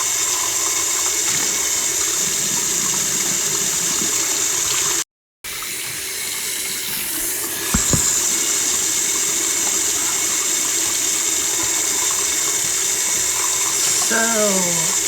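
A tap runs water into a sink in a home with a steady broadband hiss that stops briefly for a moment, resumes, and is joined near the end by a warbling chirp.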